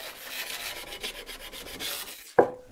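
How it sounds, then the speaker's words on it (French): A sanding block rubs across maple wood in a quick series of short rasping strokes, close and clear, and ends with a sharp knock. "un petit coup de cale à poncer"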